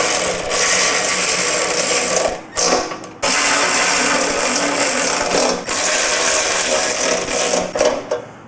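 Power tool or wrench running on the filler plugs of a Softail motorcycle fuel tank, a dense steady buzzing whir in long bursts broken by short pauses, close and loud with no talk.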